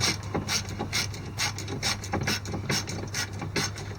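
A socket wrench ratchets stainless steel bolts on a cold air intake for a 2018 Ford F250 6.7, producing rapid, close clicking in quick repeated strokes.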